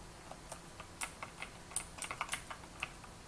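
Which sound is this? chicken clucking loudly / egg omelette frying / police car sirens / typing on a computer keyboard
typing on a computer keyboard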